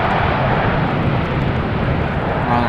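A Boeing 737 applies engine thrust while landing on runway 18R at Amsterdam Schiphol in a crosswind, a loud, continuous, close roar that holds steady throughout.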